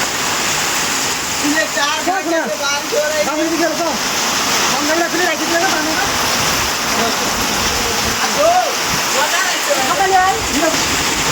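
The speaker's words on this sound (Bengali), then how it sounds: "গ্রামে অনেক বৃষ্টি শুরু হয়ে গিয়েছে।" Heavy rain pours steadily over a flooded village, a dense, constant roar of water close by with no let-up across the whole stretch.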